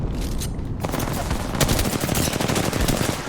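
Automatic gunfire in the Apex Legends battle royale game, rapid loud bursts running almost continuously, growing denser and harsher after a brief opening stretch.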